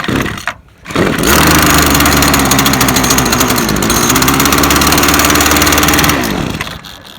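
Gas weed eater cold-starting with the choke on: a brief pull-cord sound, then the engine fires and runs loud and steady for several seconds before cutting out, close up, with no voices.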